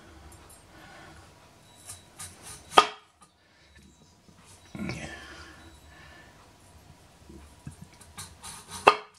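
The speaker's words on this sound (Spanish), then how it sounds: "aquí a cada extremidad de la patata se le corta" A knife slices the ends off a potato being trimmed for fondant potatoes, with two sharp, close cuts against a board amid quieter handling noises and spoken talk.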